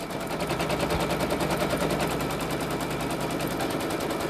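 An embroidery machine tacking down an appliqué on a T-shirt, a rapid, steady mechanical chatter of stitches running evenly and loudly up close without pause.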